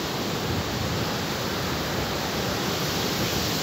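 Beach surf at Pulau Merah in Banyuwangi, a continuous broad wash of breaking waves and rushing water, steady and fairly loud throughout with no voices.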